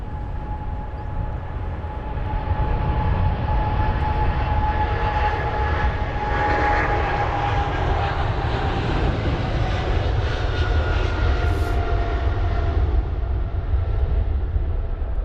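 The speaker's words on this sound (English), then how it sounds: "And just moving out off to Montreal is going to be the Boeing 777-300ER of Air Canada" An Air Canada Boeing 777-300ER taxis out at London Heathrow, its twin engines producing a loud, sustained rumbling roar with a steady whining tone above it, constant for the whole stretch.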